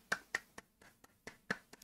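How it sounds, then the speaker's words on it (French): Lone streamer clapping hands, about eight sharp, close claps in an irregular rhythm, quiet and alone with no talk. "Moi j'applaudis."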